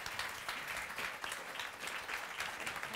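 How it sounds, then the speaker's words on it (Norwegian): An audience at a panel debate on Norwegian ocean management applauds, giving steady, full clapping that continues evenly for the whole moment. "ber han om applaus til alle sammen"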